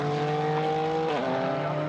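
A race-leading Mercedes GT4 race car heads downhill at the Nürburgring during a 2019 GT4 European Series race. Its engine holds a loud, steady drone throughout, with a brief dip in pitch partway through.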